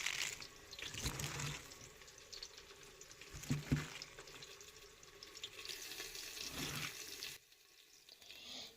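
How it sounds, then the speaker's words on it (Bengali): Running water splashes as vegetables are rinsed, with bursts of rustling and a few knocks, then the flow fades quieter near the end. "আমি সবজিগুলো ধুয়ে নেব"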